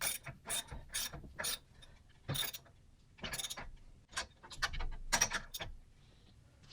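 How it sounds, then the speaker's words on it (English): Ratchet tightening a bolt on an indoor cycling pedal, quiet close clicking strokes in short irregular bursts with pauses between each swing of the handle. "Just gonna take this bolt and put it in as far as I can by hand before I start cranking down on it."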